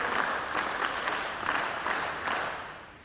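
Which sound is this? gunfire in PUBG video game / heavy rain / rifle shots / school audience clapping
school audience clapping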